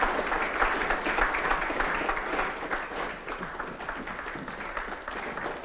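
Dense sustained applause from an audience, fairly distant and steady with no clear individual claps, slowly fading a little toward the end.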